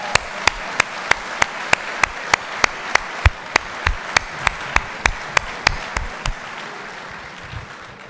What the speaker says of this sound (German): Applaus dafür